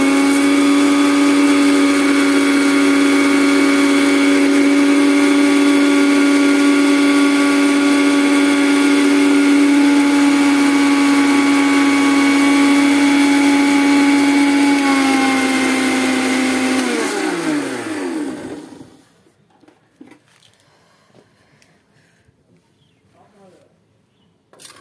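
An electric mixer grinder blending a paste whines loudly and steadily for a long stretch, then its motor is switched off and spins down to silence.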